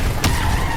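A car skids in Call of Duty Modern Warfare Remastered: a brief, loud tire squeal over engine noise, with one sharp thump partway through.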